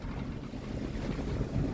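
A boat's engine drones low and steady under gusting wind and the wash of water, a continuous rumble with no voices.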